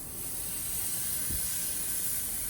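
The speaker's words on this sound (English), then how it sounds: "Nice little sizzle." A 3/4-inch-thick fatty Wagyu steak sizzling as it cooks, giving a steady, even hiss with no pauses, moderately quiet and heard alone with no talking.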